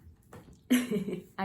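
A short, sharp throat clearing bursts out after a quiet murmur, followed by another brief vocal sound.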